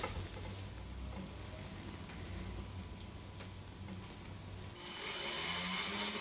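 A piece of jewellery is polished at a jeweller's bench with a motorised polisher, a low steady whir that swells into a louder, brighter hissing grind for the last second or so.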